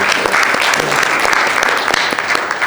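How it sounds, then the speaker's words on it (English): Loud, close audience applause at an international drug policy conference, dense clapping with distinct individual sharp claps standing out, sustained without letup. "Give her a round of applause, please."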